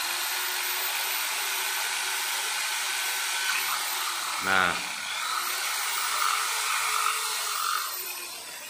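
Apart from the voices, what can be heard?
drilling into a pipe cap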